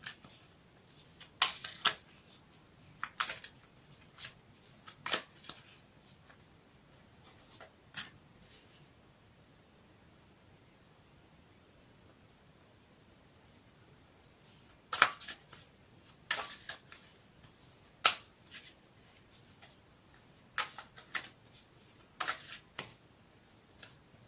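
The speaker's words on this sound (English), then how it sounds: "I'll shuffle them again for you on camera." Quiet riffling and shuffling of tarot cards in short bursts, pausing in the middle, then resuming with several more brisk shuffles close by.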